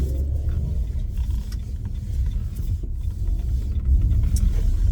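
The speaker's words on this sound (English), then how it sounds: "what is this car doing?" A car passes along a road closed without warning in the Netherlands in spring, a steady loud low rumble of engine and tyres close by, with no talking.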